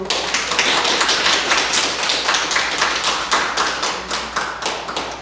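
Church audience clapping during a service, a rhythmic, close and loud run of claps that moves in an even, pulsing beat, almost like clapping in unison, and goes on without pause.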